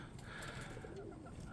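Roller pigeons in a loft give soft low coos, faint and brief against quiet background noise.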